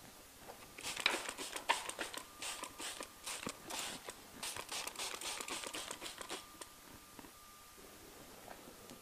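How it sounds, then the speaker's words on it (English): Backing being peeled off Hog Skins paint protection film on a Harley: faint, close, irregular crinkling and crackling in short bursts over several seconds, with no talk. "Peel your backer off a little at a time"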